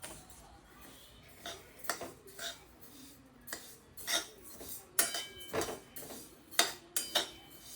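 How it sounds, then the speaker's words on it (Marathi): Sesame seeds dry-roast in a pan at home for making tilgul, with a spoon scraping and clinking against the metal in scattered, irregular taps and scrapes over a quiet background. "आता आपण भाजतोय तीळ."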